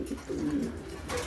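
Fancy pigeons coo in soft, low, murmuring calls, quiet and fairly close, with no one speaking over them.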